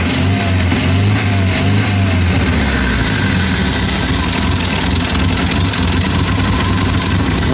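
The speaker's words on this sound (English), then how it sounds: "I suppose I could set the idling a little better." A motorcycle engine with a sticking carburetor jet idles steadily and loudly throughout, a low rumbling drone with constant vibration and no voices.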